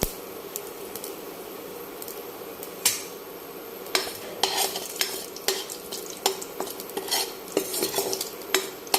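Panch phoron spices dropped into hot oil in a pan crackle and sizzle steadily, broken by frequent sharp scrapes and taps of a stirring spoon against the pan, close and fairly loud.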